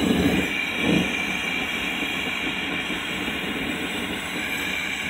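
Roaring propane forge burner with a Kaowool-lined chamber for copper melting, a steady broad rushing roar, loud and close, constant throughout with a brief surge near the start.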